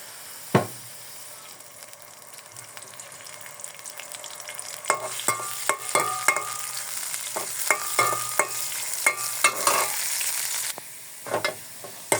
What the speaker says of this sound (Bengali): কড়াইতে চুলায় বসে দিছি, পেঁয়াজ কুচি রসুন কুচি দিয়ে দিলাম